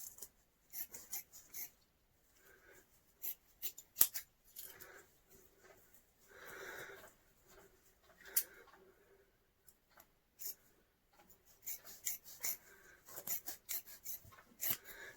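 Scissors cutting filter media sheets for a Fluval canister filter, with quiet intermittent rasping snips and rubbing strokes spread irregularly across the stretch, close and soft, with no talking.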